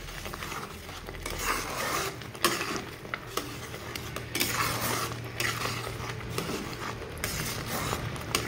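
Tomatoes being stirred and cooked down in a pan for Bengali sweet tomato chutney, with a steady scraping, clinking stir and a soft sizzle throughout, close and continuous.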